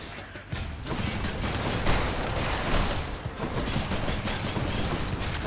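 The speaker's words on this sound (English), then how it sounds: "Normal ass gunshot does not stagger." Gunfire in the action video game Hades, a dense, rapid barrage of shots running steadily for several seconds, loud and close with no talking.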